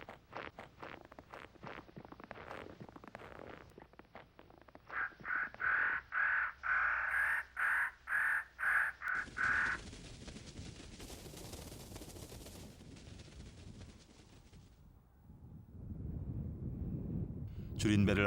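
Crows cawing in the Korean DMZ wintering grounds of vultures, a run of about eight loud, harsh caws in quick succession mid-sequence, set among rustling, thuds and wind-like noise.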